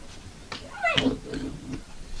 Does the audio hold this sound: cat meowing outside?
yes